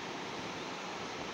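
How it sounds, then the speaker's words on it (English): Large waterfall heard as a steady, dense roar of falling water, continuous and unbroken with no voices. "Holy shit, there's a fucking waterfall."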